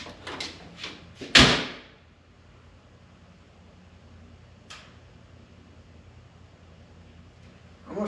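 The door of a 1932 car is swung shut in a workshop during alignment work, a few light knocks then one loud slam up close, followed by quiet room tone and a faint later tap.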